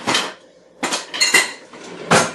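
Metal whisk striking the side of a bowl or pot while making hot chocolate bombs, four separate bright clanks spaced irregularly with short quiet gaps, close and alone.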